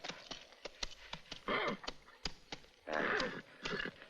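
A horse whinnies in two loud bursts among hollow hoof clops and knocks, close by and without speech.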